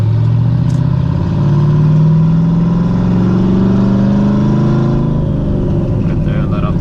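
A lifted Chevrolet Silverado 5.3L V8 fitted with a TSP 224R cam revs up toward 3,000 RPM, a loud, close, continuous engine roar whose pitch climbs steadily and then drops back as the throttle eases off.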